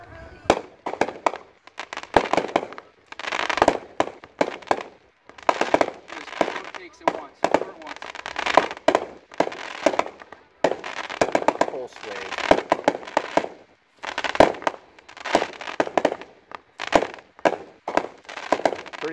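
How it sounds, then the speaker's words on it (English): A finale set of four F-Zero Pulse Wave aerial fireworks cakes firing 100 shots in rapid, crackling bursts, loud and near, with short pauses between volleys and some voices underneath. "This is a finale set of 4 standard aerials from our F-Zero line."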